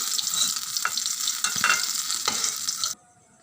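Shrimp pakoras bubble loudly in hot oil as they are turned, a close, bright crackling sizzle broken by a few scraping stirs, cutting off abruptly near the end.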